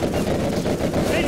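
Quad cannons in the C&C Generals Zero Hour strategy game fire at aircraft, a continuous rapid rattle of loud automatic gunfire with no pauses in the short burst.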